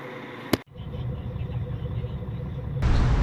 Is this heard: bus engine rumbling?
yes